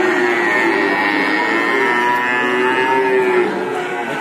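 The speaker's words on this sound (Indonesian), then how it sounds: "Depan saya ada sapi-sapi Jawa betina." A Javanese cow at a cattle market gives one long, drawn-out moo that carries loudly and steadily for several seconds, close to the listener.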